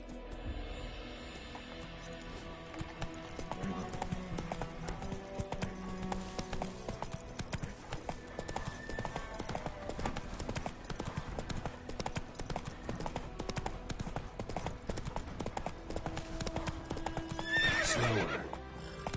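Horse hooves clip-clopping in a steady ridden gait in The Witcher 3, with a whinny near the end, running continuously over a background game score.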